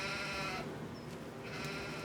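Young wool sheep bleat in a barn, a faint, wavering cry held under steady background noise.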